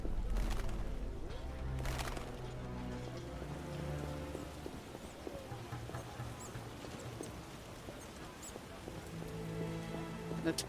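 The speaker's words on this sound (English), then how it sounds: "It's raining again. Don't like all this rain." Rain falls in The Witcher video game, a faint, steady patter of drops with occasional light taps, continuous and soft throughout.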